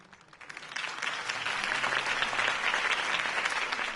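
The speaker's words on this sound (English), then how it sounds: "If only Mr. Wayne, my campaign's largest backer, could have heard that applause" Crowd applause rising after a campaign speech for Harvey Dent in a Batman video game, steady dense clapping that swells in and holds loud without speech.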